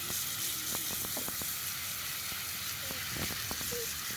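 Water sprays steadily over parts of a Haier window air conditioner during a rinse, making a continuous broadband hiss with small ticks and drips, fairly faint and with no talk.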